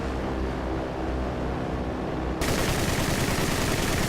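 A 20mm cannon firing in a War Thunder match, rank 1 Japanese vehicle, with continuous rapid bursts blending into loud dense gunfire that intensifies midway through and keeps going without pause.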